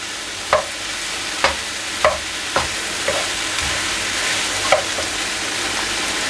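Chicken quiche filling sizzles in a pan with a steady frying hiss, punctuated by about six distinct scraping clacks of a spoon stirring against the pan.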